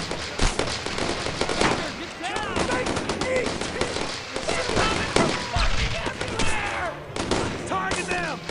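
Heavy gunfire in the WWII shooter Brothers In Arms: Road to Hill 30, running with a warzone mod: dense, continuous bursts of automatic and rifle fire crackling throughout, with loud close shots over shouting voices.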